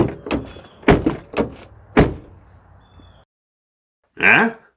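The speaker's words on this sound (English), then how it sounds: "So let's see how these cables respond to being slammed in a car door" Several heavy thunks of a car door being slammed onto phone charging cables, close and loud in quick succession, then a brief burst of voice after a pause.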